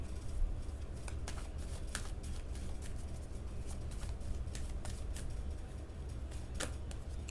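Tarot cards are shuffled quietly and continuously up close, with soft riffling and scattered crisp clicks and no talking.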